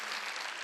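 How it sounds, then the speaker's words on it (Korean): A church congregation at a Wednesday worship service claps in a short, faint burst of applause. "박수 좀 쳐줘요"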